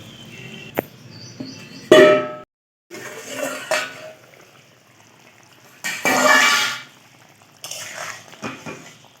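A small amount of water poured into a pan of fried jackfruit fritters: a few short, loud hissing splashes separated by quieter clinks and scrapes of utensils.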